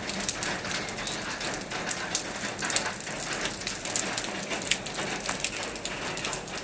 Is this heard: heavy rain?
yes